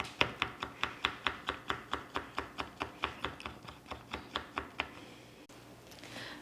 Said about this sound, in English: the only prep work that I'm going to be doing is mincing this little clove of garlic